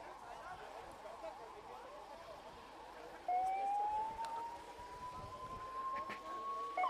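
Ambulance sirens wail steadily as the ambulances depart, rising in pitch and fading slightly, over a noisy background of traffic and crowd murmur.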